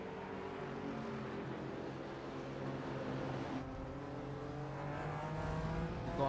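Engines of GT4 race cars circling the Homestead road course roar steadily, one car's revs climbing through gears as another follows close behind, sustained and loud throughout.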